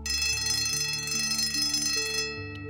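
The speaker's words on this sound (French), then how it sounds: "C'est alors que j'ai entendu la sonnerie." An electric school bell ringing continuously with a sustained metallic buzzing tone, loud and steady before cutting off near the end.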